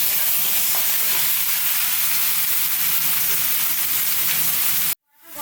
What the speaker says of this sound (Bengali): এই তেলের মধ্যে ইঁচড়টা ভেজে নেব